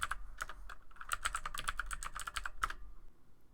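Computer keyboard keys tapped in quick irregular bursts while entering login credentials on a server, close and fairly quiet, ending in one last keystroke before silence.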